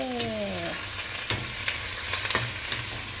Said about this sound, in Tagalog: Bigisa tayo ng repolyo at saka toge.